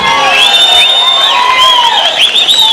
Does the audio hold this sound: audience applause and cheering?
yes